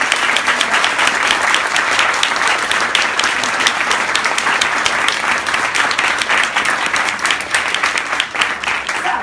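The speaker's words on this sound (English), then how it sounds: "So I want all of you to give him the biggest round of applause." Sustained audience applause at a panel event on a campaign against slavery, a dense, steady wash of many hands clapping throughout, loud and close with no talk over it.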